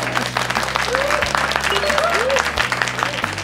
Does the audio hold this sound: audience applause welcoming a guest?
yes